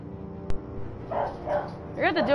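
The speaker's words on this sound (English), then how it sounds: "You're gonna have to deal with my dogs barking if you hear them," Household dogs bark in the background during a Batman Telltale Series livestream: a few yips and bow-wows come in short bursts under game dialogue and voices.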